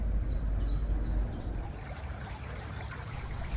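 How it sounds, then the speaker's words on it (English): A small brook flows under a brick railway viaduct arch outdoors, a steady soft rushing water sound with faint bird chirps above. "here a little brook just passes under one of the arches"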